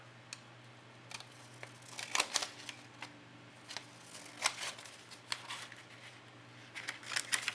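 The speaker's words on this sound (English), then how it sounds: "I'm going to go ahead and cut it into a test strip." Scissors cut a test strip from a Blackwing 56 pencil-related sample, a series of sharp, close snips and crisp clicks scattered irregularly over a steady low hum, with no talking.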